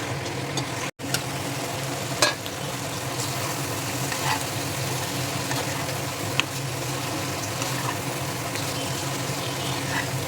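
Paneer cooks in a pan with capsicum, a steady soft frying hiss at moderate level with a few faint clicks of stirring.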